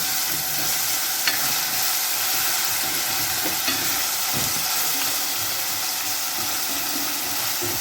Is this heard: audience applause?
no